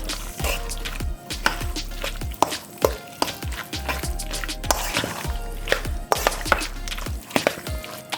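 Char siu pork wonton filling being mixed in a bowl produces rapid wet slaps and squishy thuds in an irregular rhythm, close and fairly loud, with no talking.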